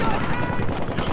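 Heavy gunfire in the police-versus-criminals shooter Battlefield Hardline, a dense, continuous fusillade of rapid shots filling the whole short moment with no pauses.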